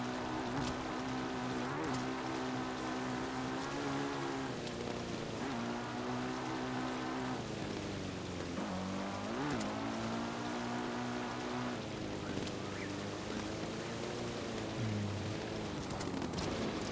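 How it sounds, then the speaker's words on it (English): Rain falls at night in Hyrule in Zelda: Breath of the Wild, a steady hiss of rainfall under a droning, sustained musical tone with layered harmonics that shifts pitch every few seconds, continuous and even in level. "It would be a rainy night out here in Hyrule."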